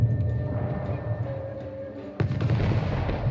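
Distant gunfire in the video game Anno 1800 echoes under a low rumbling background, with a sharper blast about two thirds of the way through.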